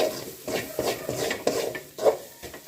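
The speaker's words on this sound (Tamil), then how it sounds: "நல்லா மிக்ஸ் பண்ணிவிட்டு கன்சிஸ்டன்சி வர வரையும் நல்லா மிக்ஸ் பண்ணிவிட்டு" Onion, tomato and spinach paste stirred in a pan for palak paneer, a spoon scraping and knocking against the metal in an uneven rhythm with faint soft squelching, close and moderately loud.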